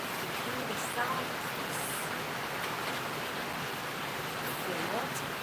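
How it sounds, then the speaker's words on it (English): Heavy rain falls outdoors in Romania, a dense steady hiss like rushing water that holds evenly throughout without pause. "of rain here in Romania"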